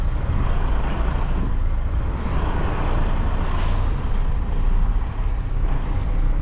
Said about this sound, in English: we're just gonna back this trailer in real quick